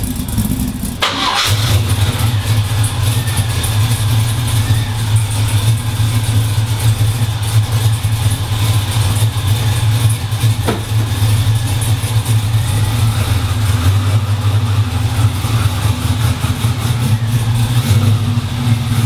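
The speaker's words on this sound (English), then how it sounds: "we have to move the Camaro outside" A Chevrolet Camaro engine starts in a garage with a sharp crank and catch, then settles into a loud, steady low idle rumble that runs on throughout, with a brief blip partway through.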